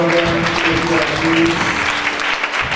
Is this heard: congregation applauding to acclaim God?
yes